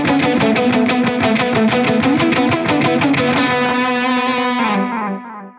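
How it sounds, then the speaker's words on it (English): Electric guitar runs through a Wampler Catacombs pedal set for analog echo and room reverb, a loud sustained, slightly distorted strummed passage with repeating echoes that fade into a reverb tail at the end. "you can hear analog echo and a nice room reverb"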